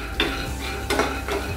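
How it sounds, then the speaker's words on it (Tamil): Raw peanuts dry-roasting in a pan over a low flame, stirred with a utensil: a few distinct scraping, rattling strokes over a steady soft background hiss, close and moderately loud. "முதல்ல அரை கப் வேர்க்கடலை, பச்சை வேர்க்கடலை போட்டுருவேன்."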